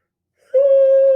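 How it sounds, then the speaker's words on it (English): A person's yawn in a house, a short breathy onset rising into a steady drawn-out voiced moan that rings with a faint echo, close and fairly loud. "That just like echoed in my house. My yawn."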